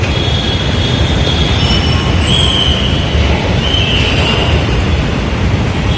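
A Mumbai metro train rumbles loudly along the rails, with a steady roar and a high metallic wheel squeal rising briefly now and then.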